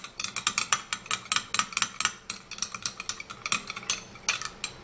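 A utensil stirs egg yolk in a bowl for a hair mask, making rapid, rhythmic clinking and scraping strokes, close and fairly loud, with no talking.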